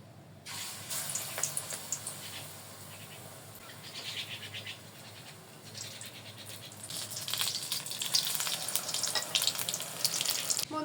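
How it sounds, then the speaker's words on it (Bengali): Malabar spinach leaf fritters deep-frying in hot oil, a steady bubbling sizzle with crackling bursts that grows louder toward the end, heard alone without talk. "এভাবে সবগুলো ভেজে নিব।"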